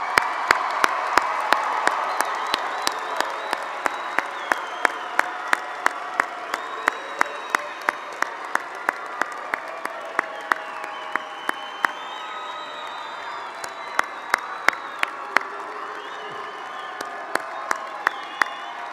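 Applause fills a hall at a spring commencement ceremony, with a few sharp, close claps standing out over a broad crowd wash and occasional cheers and whoops, sustained for nearly twenty seconds.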